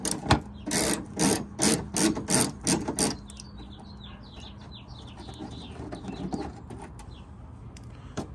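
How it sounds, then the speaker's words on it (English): An 11mm socket wrench ratchets rhythmically through about eight quick, close bursts while removing bumper bolts on a third-generation Toyota Tacoma, then stops as birds chirp faintly in the background. "just use 11mm socket and remove this on both sides"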